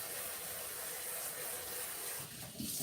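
Tap water runs into a kitchen sink, rinsing diced pork in a colander: a steady close hiss and splash that continues unbroken, with a brief shift in the flow near the end.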